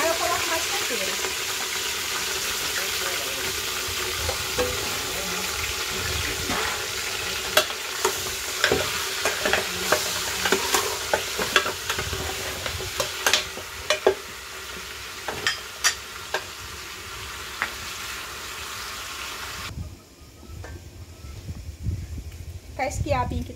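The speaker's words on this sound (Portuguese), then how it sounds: "De início eu vou fritar ela só com alho." Pork ribs frying with garlic in a pan, a steady close sizzle with frequent stirring clicks and scrapes of a utensil, while a person talks over the cooking.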